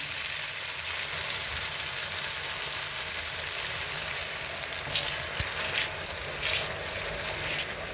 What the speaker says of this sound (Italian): E a questo punto iniziamo la cottura del risotto.